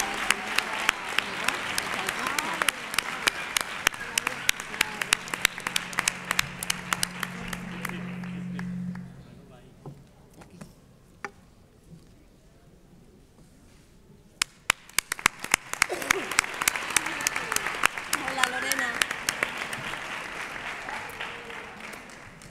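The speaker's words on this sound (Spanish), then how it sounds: "Un aplauso." An audience at a carnival proclamation and crowning ceremony in Nerva applauds a young painting student, with loud, sustained clapping that fades to a lull and then swells again with sharp individual claps.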